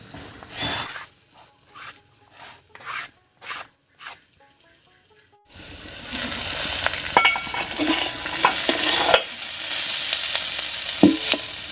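Cauliflower stalks fry in a pan for a village-style chorchori, with a few scattered clicks and scrapes at first, then a continuous close sizzle with stirring noises.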